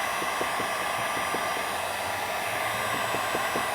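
A heat gun blows hot air over tint film on the edges of a car light, a steady loud whooshing roar running without a break, with faint soft thumps underneath.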